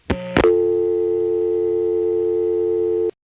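A couple of short clicks and a brief tone burst, then a steady, unbroken 1970s long-distance telephone network dial tone hums for about three seconds before cutting off.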